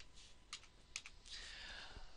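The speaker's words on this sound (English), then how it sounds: "All you have to do is click, and you can simply type whatever you want." Soft keystrokes on a computer keyboard: a few separate clicks followed by a quicker run of faint tapping, close but quiet.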